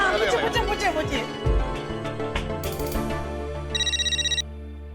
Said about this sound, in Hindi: मैं भी कोमल भाभी को फोन करती हूँ